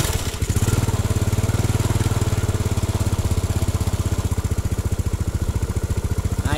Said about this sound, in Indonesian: kita coba hidupkan dulu motornya ya